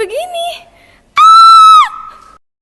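A voice in a school musical stage performance lets out a loud, sustained high-pitched scream after a brief rising vocal cry, close and piercing.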